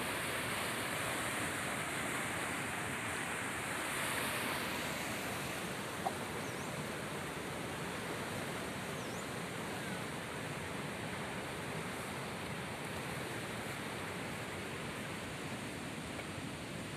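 Ly River water surges through a single open gate of the Đá Lòng dam, a constant, dense, roaring rush that holds steady and loud throughout with no other sounds.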